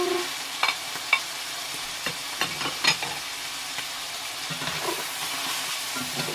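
Pork and shrimp stir-frying in a wok, with soft sizzling under scattered sharp clanks and scrapes of a spatula against the pan, moderately close and fairly quiet.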